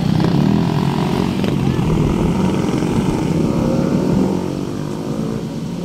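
Motorcycles passing on a scenic road near Kakawayan Falls in Infanta, Quezon, a loud continuous engine drone close by that eases slightly toward the end.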